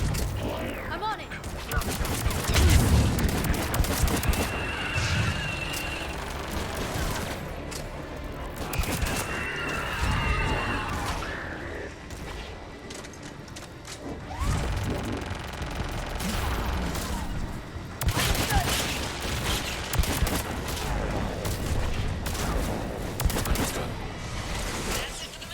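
Missiles fire in the Mass Effect 3 video game, with repeated bursts of launches and blasts spread over a long stretch, mixed with other battle noise and voices speaking.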